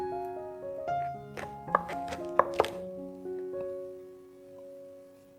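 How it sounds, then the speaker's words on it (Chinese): Knife chopping through the root ends of white beech mushrooms on a board, a handful of sharp, close cuts clustered in the middle, with soft handling sounds and quiet background music between them. "然后切掉白玉菇的根部"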